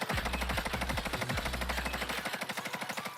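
The Bruen machine gun in a video game held on full-auto fire, a rapid, steady stream of loud rattling shots for about three seconds with no pause and no talk.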